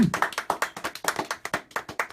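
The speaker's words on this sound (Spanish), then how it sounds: "Denle un aplauso al Señor y déselo bien" A church congregation claps together in a steady, fairly quick rhythm of sharp, close hand claps, about a dozen beats in a couple of seconds, with no talking over it.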